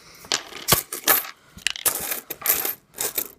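A paper coin roll is broken on its edge and the coins dumped out, giving a series of bright metallic clinks and jingling cascades in several close bursts.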